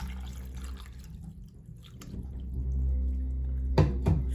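Fresh strawberries rinsed under running tap water after a vinegar soak, a steady close splash and trickle with a few sharper drips near the end, no talking.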